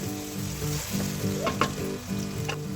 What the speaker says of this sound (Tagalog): First, let's saute our onions, our minced garlic.